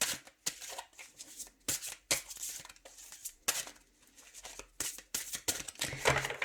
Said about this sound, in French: Je vais remélanger une fois.